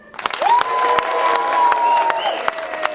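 A studio audience at the Palm Springs Cultural Center claps and cheers in a practice round, sharp individual claps and whoops over a sustained rising whistle-like tone, fairly loud and close.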